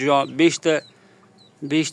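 A ten-month-old young chicken clucks close by in short bursts, three quick calls, a brief pause, then another.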